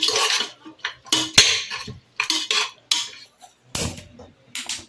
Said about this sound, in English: And then coriander powder, 1 spoonful. Let us stir well. Let us mix well.